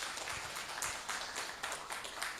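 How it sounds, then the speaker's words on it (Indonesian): Audience applause after a speech at a university event, a faint, distant spatter of many hands clapping that runs steadily for a couple of seconds. "Tepuk tangan untuk beliau."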